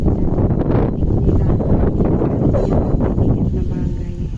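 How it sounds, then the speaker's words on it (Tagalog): Strong typhoon wind roars and buffets loudly and continuously against the microphone outdoors in the Philippines, with rustling debris and a voice speaking over it. "Gaano kalakas ang hangin."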